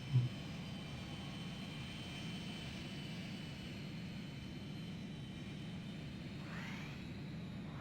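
Jet plane engine drone in the Ace Combat 3 flight game, a steady low roar held throughout, with a brief swooping whoosh near the end.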